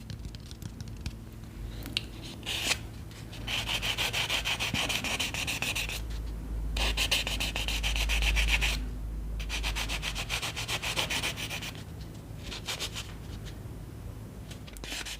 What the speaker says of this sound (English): still can file down your nail a little bit for those little imperfections or rough edges